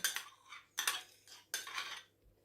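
A spoon scrapes and clinks against a bowl of chicken fillet salad dressed with mayonnaise in three bursts of stirring, close and fairly quiet, with brief pauses between.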